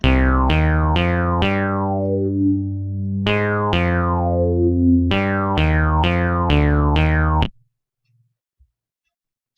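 Wasp XT synth part in FL Studio: a string of bright, plucky electronic notes with bouncy, quickly decaying tails, some short and some held longer, playing steadily for several seconds before cutting off into near silence.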